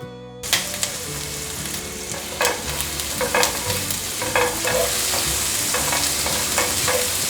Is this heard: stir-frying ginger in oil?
yes